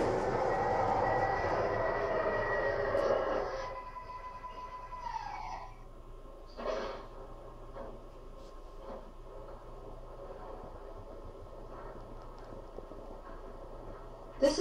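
A model MTH R142a New York City subway train of the 4 Lexington Avenue Express rumbles loudly at first, then eases into a quieter steady hum with faint clanks and a brief squeal as it slows.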